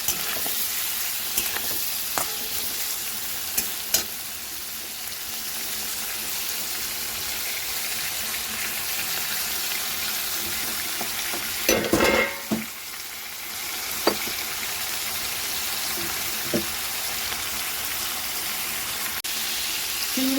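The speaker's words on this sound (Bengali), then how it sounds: "নুন দিয়ে চিংড়ি মাছটা হালকা ভেজে নেব।" Prawns lightly frying in oil seasoned with salt and turmeric, a steady close sizzle running throughout with occasional stirring clicks and scrapes in the pan.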